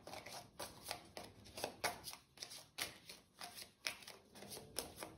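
Tarot cards being shuffled by hand at close range, a quiet run of repeated riffling bursts in a fairly regular rhythm, with no talking.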